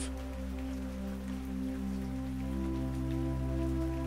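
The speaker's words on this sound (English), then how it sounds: "The sound of the rain" Rain falls steadily at a train platform, a constant even wash of sound blended with a low, sustained droning hum, with no voices.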